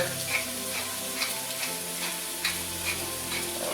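Ground beef for a beef shepherd's pie fries in a pan with a steady, fast sizzle, crackling and spitting throughout, with brief ticks of spatula scraping and stirring.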